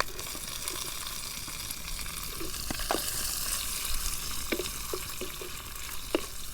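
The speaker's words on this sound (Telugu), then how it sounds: "ఇవి వేసుకొని లైట్ గోల్డెన్ కలర్ వచ్చేదాకైతే వేగించాలి" Cinnamon, cloves, chillies and sliced onions fry in hot oil with a faint, steady hiss, broken by scattered light clicks and scrapes of a spoon against the pan.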